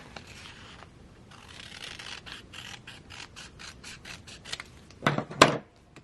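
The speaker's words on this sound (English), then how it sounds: "I'm going to cut this sticker out." Scissors snip out a paper planner sticker for an Erin Condren A5 Daily Duo, first a soft rubbing, then a rapid run of crisp close cuts ending in a louder paper rustle.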